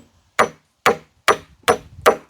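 Hammer blows driving nails while building a temporary hut, five sharp, evenly spaced strikes close by, each ringing briefly before fading into quiet.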